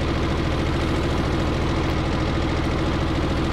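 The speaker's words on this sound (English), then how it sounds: "turn the engine off" Boat engine idling in the Stormworks video game, a steady loud low rumble with a fast even throb that runs unbroken throughout, with no talk.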